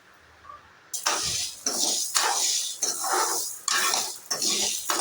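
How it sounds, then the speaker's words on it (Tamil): Dry scraping and rattling in a metal pan begins after a moment of quiet, coming in repeated bursts as garlic is dry roasted, stirred and tossed. "ஃபஸ்ட்டு பூண்டை வறுத்துடலாம்"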